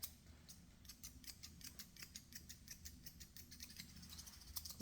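Thinning shears snip repeatedly through a dog's head hair during grooming, a fast, irregular series of faint, close metallic clicks over quiet background hiss.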